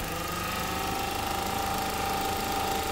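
A Ford Fiesta engine runs steadily at idle, a close, even mechanical hum with faint rhythmic pulsing and no talking, on a car with a radiator fan that will not work.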